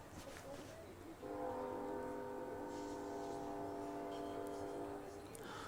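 Train horn blown in one long sustained chord lasting about four seconds, distant and fairly faint over background rumble, with a brief voice before it.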